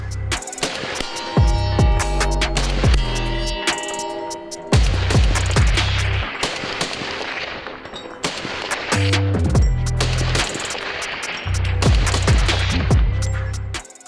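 A Mossberg MMR Pro AR-15 rifle fires several loud, rapid strings of shots in quick bursts, separated by brief pauses, with sharp cracks and echoing booms close by.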